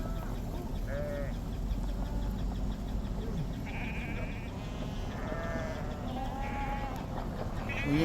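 Several sheep bleat at intervals, some nearer and some farther off, over a steady outdoor rumble in the Colorado backcountry.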